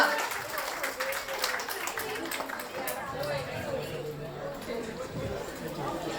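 Applause and cheering from a family audience at a company Diwali celebration, a loud burst at the start that settles into steady clapping with scattered voices and crowd chatter mixed in.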